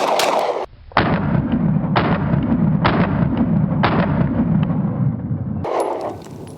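Four loud, evenly spaced gunshots from a standard, unported Hellcat Pro pistol firing 124 grain rounds at an outdoor range, each sharp crack followed by a brief ring, with roughly a second between shots.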